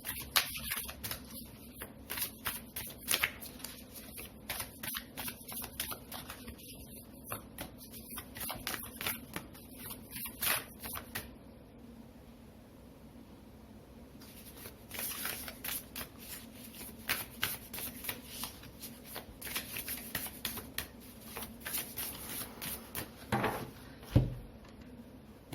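Tarot cards handled and laid onto a spread, giving soft papery shuffles, slides and light taps that come in scattered bursts over a quiet room background, close and fairly faint, with no talking.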